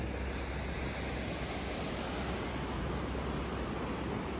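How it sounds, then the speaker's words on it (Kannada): Ocean waves at Kodi beach in Udupi roar at night as a continuous broadband wash of surf, steady and unbroken, with no voices over it. "ಅಲೆಗಳು ತುಂಬ ಜೋರಾಗ್ಬಿಟ್ಟಿದೆ ನೈಟ್ ಟೈಮಲ್ಲ"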